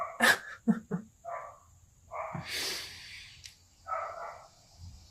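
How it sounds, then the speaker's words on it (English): A neighbor's dog outdoors gives several barks and huffing, snorting breaths in irregular bursts, moderately close and fairly clear with no talking. "I'm really sorry that my neighbor's dog has been let outside"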